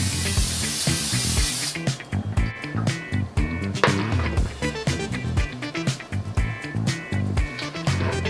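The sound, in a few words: cooking spray sprayed onto baking dish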